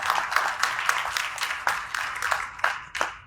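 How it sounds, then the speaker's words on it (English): Audience applause for a panel member at a community coalition panel meeting on clinical trials, a modest crowd clapping steadily for about three seconds, moderately close and tapering toward the end, with no talking over it. "I do want to also please give a round of applause to Ms. Denise Diller"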